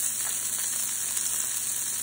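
Chopped onion frying in a hot pan, a steady bright sizzle with faint crackles, close and even throughout.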